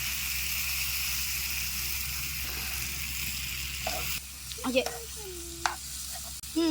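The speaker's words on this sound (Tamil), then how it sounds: "அந்த பொறுத்து வச்சுருக்க சிக்கனை இதில் சேர்த்துருவோம் சிக்கனை நல்லா இதில் பரட்டிடுவோம்" Chicken frying and being stirred in masala in a pan, a steady low sizzle with occasional scrapes and clinks of a spoon becoming more distinct toward the end.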